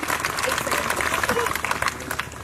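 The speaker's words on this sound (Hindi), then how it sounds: "तालियों से स्वागत अभिनंदन के लिए।" A rally crowd for Chief Minister Bhajanlal Sharma in Mira Bhayandar claps loudly, a dense and steady wash of applause that carries on for the full stretch, with voices mixed into it.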